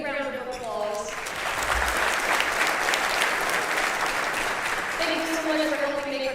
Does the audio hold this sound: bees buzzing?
no